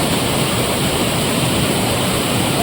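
Hidden waterfall in the forest near Sirsi, a loud, steady, unbroken roar of falling water heard close up with no pauses.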